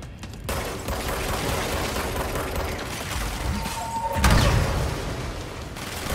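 Dense, continuous bursts of rapid gunfire and explosions from the video game Control fill the scene, loud and sustained, with a sharp boom near the end.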